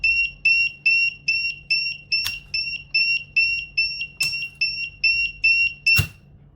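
A pump controller's alarm sounding after tripping on no water flow: a clear, loud electronic beeping in evenly spaced double-tone pulses, about fifteen in a row, with brief clicks breaking in, no talk.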